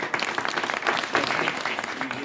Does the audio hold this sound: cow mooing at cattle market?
no